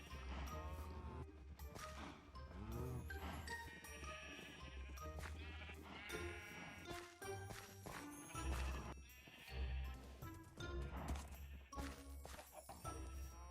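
Sheep bleat repeatedly in the blocky survival game Minecraft on hardcore mode, several wavering baas from multiple animals overlapping near and far, mixed with other farm animal sounds and occasional clatter.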